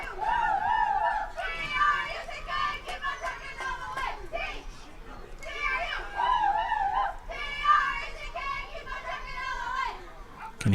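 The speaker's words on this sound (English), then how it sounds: "Can hear the young ladies for Greenwood cheering here on our side of the field." Greenwood young ladies cheering at a high school football game, high chanted voices coming in bursts from nearby stands, with other chatter mixed in.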